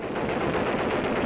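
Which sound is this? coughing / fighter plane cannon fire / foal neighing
fighter plane cannon fire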